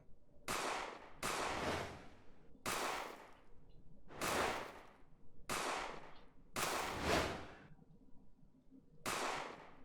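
Seven sharp gunshots ring out from the shooting game One More Shot as giant cakes are fired at, spaced at irregular intervals, each a loud crack with a short decaying tail, with no talking.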